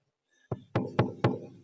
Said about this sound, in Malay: Terus iblis getok pintu.